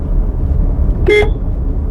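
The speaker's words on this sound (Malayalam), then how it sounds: "വളവിൽ ഹോൺ അടിക്കുക" A single short car horn toot sounds at a road bend over steady road and engine noise.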